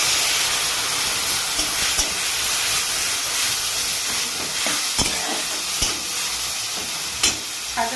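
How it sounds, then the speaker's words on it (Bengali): White mustard paste sizzling and frying in a pan, a steady loud hiss throughout with occasional scraping and stirring knocks from a utensil, no voices. "আমি এখানে সাদা সর্ষে দিচ্ছি সাদা সর্ষেটা বাটা আছে সাদা সর্ষেটাকে আমি দিয়ে দেবো"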